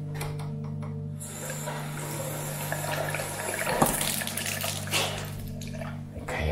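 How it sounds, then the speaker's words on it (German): Tap water runs faintly in a disused storage building under a steady electrical hum. A louder gush of flowing water swells briefly in the middle, then settles back. "Meinst du, Wasser läuft noch?"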